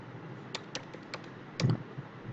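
Light typing on a computer keyboard, a handful of sparse, crisp key clicks with one heavier tap near the end, close and alone in a quiet room.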